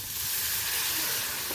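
Water poured into a pan of frying pangas fish with taro root, a loud steady steaming hiss and sizzle filling the whole moment without pause.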